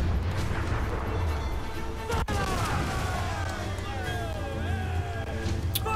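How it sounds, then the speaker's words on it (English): Mortar fire in Assassin's Creed IV rumbles as a steady, dense wall of distant blasts and battle noise, with one sharp crack midway and whistling tones sweeping across the din. "We gotta get out of the mortar fire, boys."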